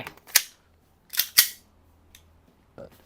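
A Double Bell DB 303 gas airsoft pistol, a Taran Tactical Pit Viper replica, fires three sharp, loud cracking shots close by: one alone, then two in quick succession, followed by a faint click and a softer mechanical snap.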